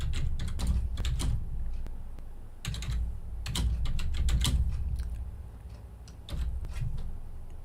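Quick, close bursts of typing on a computer keyboard, clusters of crisp key clicks with brief pauses over a low background hum.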